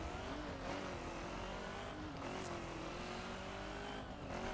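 A circuit race car in The Crew drives steadily with a continuous engine drone and road and tire noise. A faint, brief squeal sounds midway through, and the car stays loud and close without a break.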